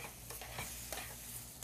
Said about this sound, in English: So you can hear that sizzling away.